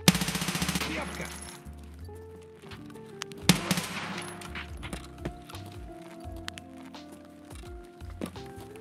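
An MCX rifle fires in the game Escape from Tarkov. A rapid, loud burst of shots opens the passage, then a single sharp report follows about three seconds later, with softer game noises between.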